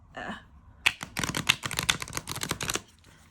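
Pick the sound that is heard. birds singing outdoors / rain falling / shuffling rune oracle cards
shuffling rune oracle cards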